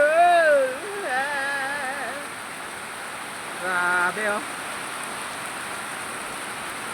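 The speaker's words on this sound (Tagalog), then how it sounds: "Ang lakas na naman ng ulan." Heavy afternoon rain pours in a steady, dense hiss throughout, while someone talks briefly over it.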